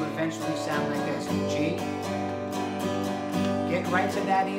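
An acoustic guitar strums a steady chord progression up close, with regular rhythmic strokes and clear chord changes.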